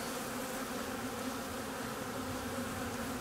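Agitated honeybees swarm around an opened hive during an inspection, a dense, continuous close-up buzz that holds steady and loud with no voices.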